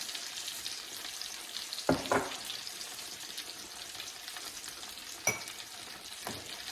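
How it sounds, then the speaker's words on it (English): Tomato sauce for chicken parmesan, seasoned with black pepper, salt and red chili powder, softly sizzles in a pan while a spoon stirs it, with a few sharper scrapes and clinks standing out against the quiet bubbling. "just mix everything up and then let it cook on medium-low"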